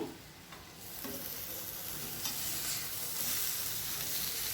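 Broad bean (chikkudukaya) fry sizzling steadily in a pan with coriander, a dense continuous crackle and hiss close by with occasional stirring scrapes, no voices.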